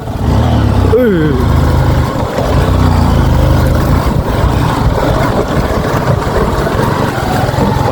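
A vehicle engine drives off-road up a village hillside, a loud, steady rumbling drone that fills the whole stretch with slight surges, with voices talking over it.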